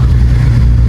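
A loud, close engine drone from a 217 kW turbo Ford Escort XR3 race car held in second gear, steady and heavy in the low end for a brief moment.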